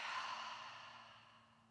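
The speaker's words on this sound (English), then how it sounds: "Pause when you reach the top and forcibly exhale everything out." A single forceful exhale during a yoga breathing exercise: a close, breathy rush of air that is strongest at the start and fades steadily over under two seconds, quiet overall, with no talking.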